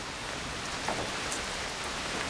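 Steady rain falling at night, a dense even hiss of drops on surfaces with no distinct thunder and no voices, constant and moderately loud throughout.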